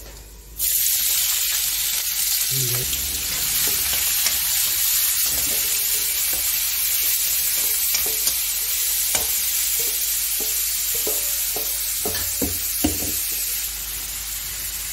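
Onions and meat frying in a hot pan, a loud continuous sizzling hiss that starts abruptly and holds steady, with occasional spatters and stirring clicks layered on top.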